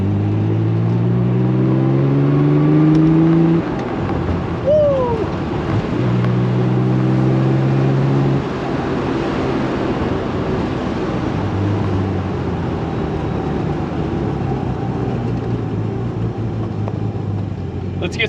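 A vintage Porsche 911 Targa's engine and exhaust drone while driving, with rising and falling harmonic tones as it revs and shifts, steady and fairly close throughout.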